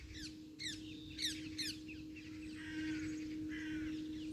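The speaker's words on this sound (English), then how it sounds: "Birds them are chirp this morning." Morning birds call outdoors, a crow giving several sharp caws in quick succession, then softer chirps and warbling over a steady low hum, all fairly faint and distant.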